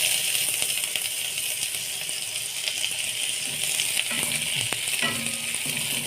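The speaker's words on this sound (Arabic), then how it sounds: "واقلبها بقى ايه لحد ما تاخد لون ذهبي كده" Garlic cloves and a piece of green pepper fry in a spoonful of oil for Egyptian koshari, a steady loud sizzle with occasional utensil clinks and stirring scrapes near the end.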